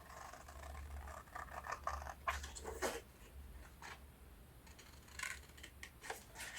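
Scissors handled while crafting a card, faint scattered snips, clicks and scratchy paper rustles close by in a quiet room, with a low hum underneath.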